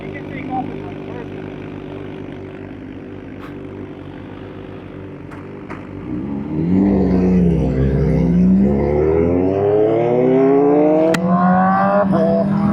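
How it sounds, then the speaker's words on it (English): A Honda CBR1000RR-R Fireblade SP engine idles steadily, then climbs into rising revs with sweeping upward pitch, loud and close, building toward high-rpm wails at the end. "This one is all top end power. You need to be at like 12 for you to feel it."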